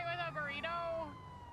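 A video game police siren wails, sweeping up and down over a short stretch, fairly loud and close, with a voice speaking faintly beneath it.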